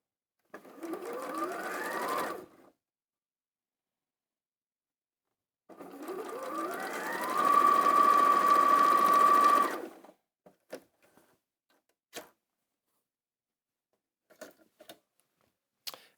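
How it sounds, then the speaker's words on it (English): A sewing machine runs a quarter-inch seam in two bursts of rapid, even stitching, close and clear, followed by sparse small clicks and taps. "I'm going to do a 1/4 of an inch down that seam there"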